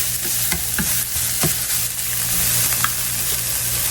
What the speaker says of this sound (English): So we want to cook these with the remaining sausage that needs to still cook.